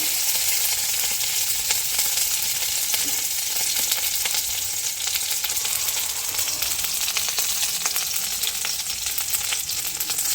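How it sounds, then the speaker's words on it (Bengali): Green chillies frying in hot oil with panch phoron, a steady bright sizzle with crackling pops that holds at an even level throughout, close and uninterrupted. "কাঁচা লঙ্কাটা ভেজে নেবো"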